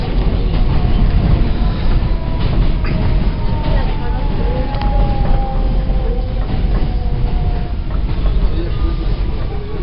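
A Manhattan-bound W local subway train runs steadily and loud near 39th Avenue in Queens, with continuous rumble, rail clatter and faint squealing tones throughout.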